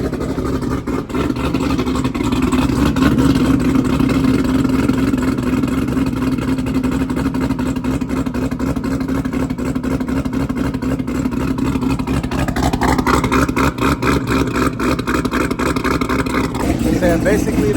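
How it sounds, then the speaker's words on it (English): A Chevrolet C7 Corvette Z06 with a BTR cam idling, a loud continuous choppy low rumble close by with a brief rise in revs toward the end. "this is how the car sounds with a BTR cam"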